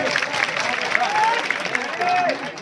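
Applause from a crowd at a village community meeting of a Thakor samaj committee, a short burst of clapping that rises and falls under a man's amplified speech.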